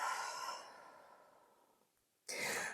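A long, soft exhaled breath during a yoga session, fading slowly over about two seconds, followed by a sudden burst of a fresh breath or movement noise.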